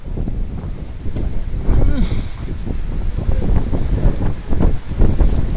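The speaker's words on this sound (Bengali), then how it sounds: "কি পরিমাণ বাতাস ছাড়ছে দেখেন" Strong wind blowing ahead of a storm gusts and rumbles across the microphone throughout, with voices talking over it.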